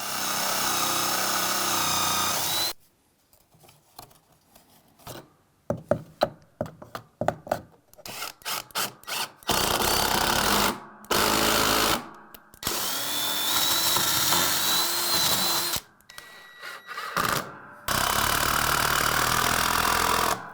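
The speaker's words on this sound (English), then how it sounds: "I'm going to pre-drill and then put some screws right in here." A power drill whirs in bursts while pre-drilling and driving screws into wood on an attic ladder: short stuttering pulses, then several longer sustained runs, loud and close, with brief pauses between.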